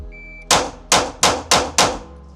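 A Glock 43X handgun with a Radian build fires five sharp, loud shots in quick succession during a 5-yard shooting drill, following a brief faint beep.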